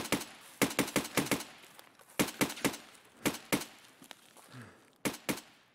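Bursts of gunfire in Escape From Tarkov, several quick rapid-fire volleys of loud sharp shots with short pauses between, fairly close and alone.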